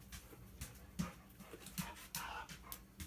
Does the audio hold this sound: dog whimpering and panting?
yes